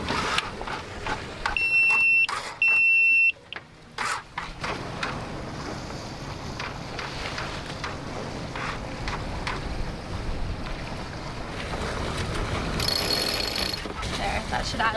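A sailboat moves under wind in California, with steady wind rush and water wash throughout, a few electronic beeps and clunks near the start, and a faint higher tone toward the end.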